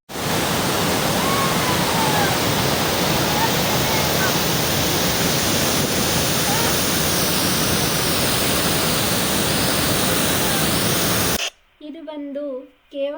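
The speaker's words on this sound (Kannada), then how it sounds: "Get more close to the waterfalls" Niagara Falls roars as a loud, continuous rush of falling water heard up close. The roar cuts off abruptly near the end, and a short stretch of talking follows.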